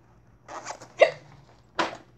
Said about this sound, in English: If I could get rid of the hiccups,